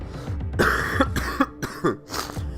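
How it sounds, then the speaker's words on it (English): A few harsh coughs in quick succession, close by, with a throat-clearing rasp between them and no talking. "Sorry, cold. Can't help the cough."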